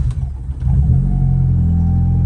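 A car engine starts on a very cold day and settles into a loud, steady low rumble with slight revving, close to the microphone, with no talking over it.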